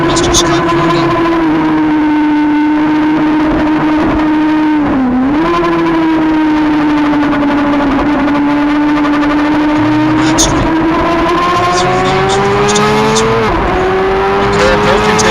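Racing motorcycles, a Suzuki among them, scream at high revs through a women's Formula Femme final, with a sustained engine whine that rises and dips as the bikes shift and pass, under continuous commentary.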